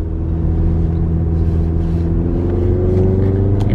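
A rental car driving, heard from inside as a loud steady engine rumble with low road drone, the pitch rising slightly near the end as it accelerates.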